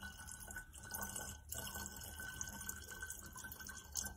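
A 2012 St Leonards Wagunyah Shiraz is poured into a decanter, a soft, steady liquid trickle with faint dripping that runs for about four seconds at low level, with no talking.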